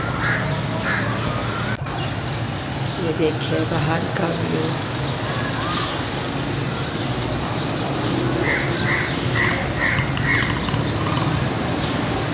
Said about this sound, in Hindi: कौवे उनकी आवाज़ आ रही है